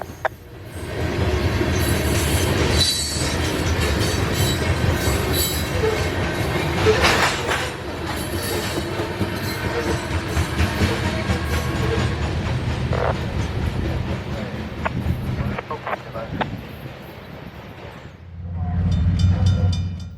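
A freight train rolls past on the rails in a long, loud, steady rumble with clanking and squealing wheels, fading briefly near the end before a low roar swells again.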